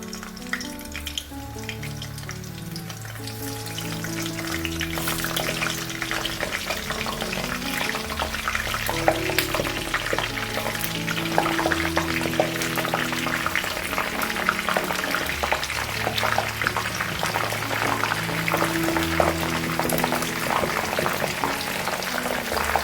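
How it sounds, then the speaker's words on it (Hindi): Okra (bhindi) frying in hot oil, a dense, continuous crackling sizzle that swells after the first few seconds and stays loud and steady, with faint music running underneath and no talk. "ऑयल हीट अप हो चुका है, अब हम इसमें भिंडी डालेंगे फ्राई करने के लिए।"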